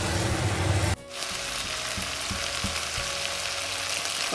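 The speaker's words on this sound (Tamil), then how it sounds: "அதுக்கப்புறம் நம்ம சிக்கனை சேர்த்துக்கலாம். சேர்த்து நல்லா கிளறி வச்சுக்கோங்க." Chicken pieces tipped into a hot pan for a semi-gravy chicken sukka, starting with a loud burst of sizzle, then steady frying with a few soft scraping stirs; no voices.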